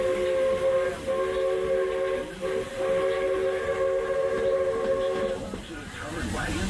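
Magic Kingdom Railroad train running at Disney's Magic Kingdom, a steady close rumble with a sustained whistle-like tone and hiss throughout, easing near the end.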